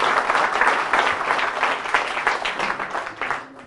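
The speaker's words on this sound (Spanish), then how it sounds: "Fuertes aplausos al Señor." Congregation applauding at a church retreat sermon, a dense wash of many hands clapping steadily at moderate loudness, tapering slightly at the end.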